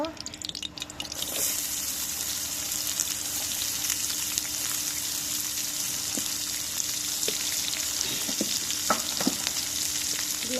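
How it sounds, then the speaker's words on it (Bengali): Small fish frying in hot oil in a home kitchen, a steady close sizzle that rises after the first second and continues throughout, with a few faint utensil taps. "এখন গুঁড়া মাছ বসাবো তেল দিয়ে দিলাম"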